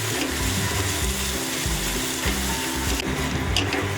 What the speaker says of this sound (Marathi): आपल्याला हे बघा व्यवस्थित असं मिक्स करून घ्यायचं आहे